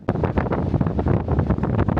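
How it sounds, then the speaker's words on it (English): Steady, heavy wind buffeting the microphone on the Caminito del Rey cliff walkway in Spain, a continuous low roar with gusty fluctuations throughout, no voices. "It's windy there as well as bouncing."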